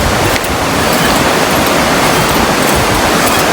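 A river rushes below a long suspension bridge on a Pacific Crest Trail hike in the Sierras, a loud, constant broadband roar with no pauses and no voices.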